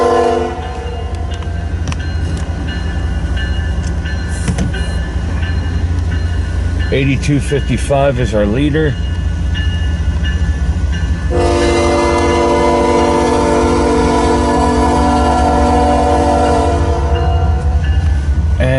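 A freight train rumbles past in Fremont, Nebraska, a loud continuous roar of engines and rolling cars with horn blasts partway through, while someone talks over it.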